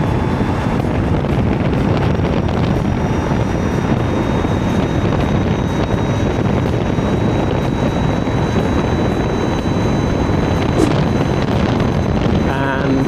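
An Ather 450X electric scooter running at top speed, around 90 km/h, with loud, steady wind roar buffeting the microphone throughout and almost no motor sound coming through.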